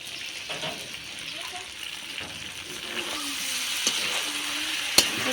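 Potatoes and pointed gourd dropped into hot oil in a pan, setting off a steady hiss of frying that grows slightly louder, with a sharp clack of a utensil near the end.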